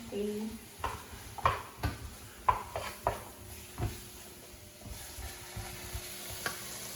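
Pad thai frying in a pan, with a steady soft sizzle under repeated scraping and stirring strokes and occasional clinks of utensil on metal, fairly close and quiet, while a person talks intermittently.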